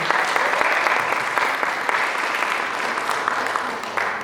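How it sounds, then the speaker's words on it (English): Steady applause from a crowd, dense clapping filling the whole stretch at a consistent loud level. "can we give a big, huge round of applause for Ms. Rodriguez?"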